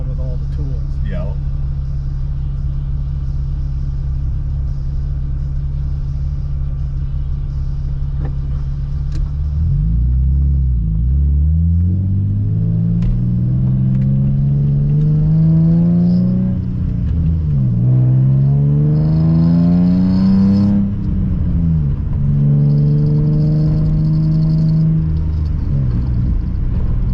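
A Volkswagen drift car engine revs under load while driving, a loud steady rumble near the listener rising and falling through several sweeping revs, with people talking over it.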